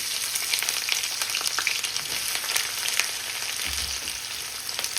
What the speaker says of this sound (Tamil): நான் வந்து வெங்காயத்தை வந்து சேர்க்கிறேன்.